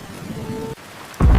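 Heavy rain hisses steadily, then a deep, loud thunder rumble bursts in near the end.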